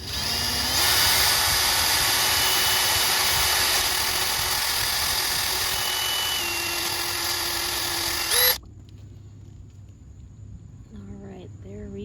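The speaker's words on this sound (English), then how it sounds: "We keep mixing it just until the color looks like it's evened out." Power drill with a paddle attachment mixing epoxy resin: a steady, loud, close whine for about eight seconds, then it stops abruptly and a voice speaks over quiet background.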